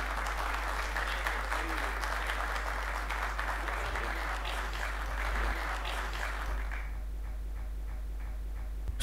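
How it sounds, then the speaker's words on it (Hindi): An audience at a Jashn-e-Urdu poetry gathering in Dubai applauds to welcome a poet to the stage. The clapping is steady and dense for about six seconds, then fades out under a low background hum. "मैं चाहता हूँ आप पुरजोर तालियों के साथ उनका इस्तकबाल करें"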